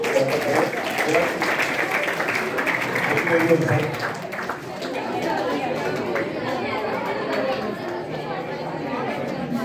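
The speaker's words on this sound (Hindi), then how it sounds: "जोरदार तालियों से सर के लिए" Applause mixed with crowd chatter and voices, a steady wash of clapping from a sizable school audience at a literary event, fading slightly after a few seconds.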